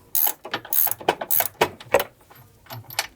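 Ratchet clicking while loosening an 18 mm bolt on the front control arm of an Audi A4, a series of sharp metallic ratcheting bursts in uneven short strokes, close up with no talk.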